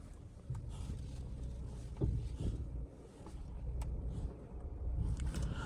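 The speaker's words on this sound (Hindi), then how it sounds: "रिवर्स कर लिया है और लगभग अपनी कार आराम से अंदर चली जाएगी" A car reversing slowly into a parking space gives a low, steady engine rumble mixed with wind buffeting the microphone, moderately close and without speech.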